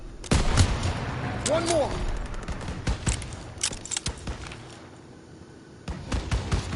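Bursts of gunfire and explosive blasts from a PS4 war game battle, loud and repeated in irregular volleys, with shouted squad voices over the shooting.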